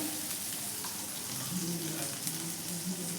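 Water sizzles on a hot, brush-oiled iron dosa pan, a steady crackling hiss with faint popping that holds evenly throughout, close and moderately loud with no voices.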